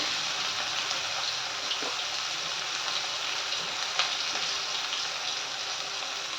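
Bitter gourd pieces frying in oil in a pan give a steady, dense sizzle and crackle that holds at even loudness throughout, with a few faint pops, and no voices.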